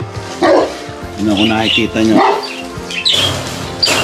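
A dog barks and yips a few times close by while a person talks over it, with birds chirping in the background.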